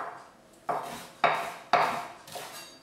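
Fresh coriander is chopped on a wooden board with a knife in four crisp, evenly spaced thuds, close and clear, with no talking.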